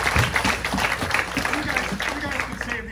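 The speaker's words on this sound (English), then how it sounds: "You guys can save the applause" Applause from the audience at a martial arts black belt ceremony, a dense spread of many hands clapping at moderate distance, with a voice speaking over the top.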